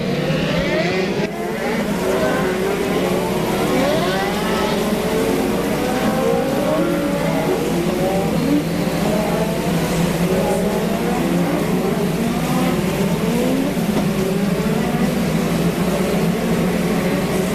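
Twenty-eight dwarf race cars roaring around the Heart O' Texas Speedway, a dense continuous wall of engine noise with overlapping revs rising and falling as cars pass, loud and sustained throughout.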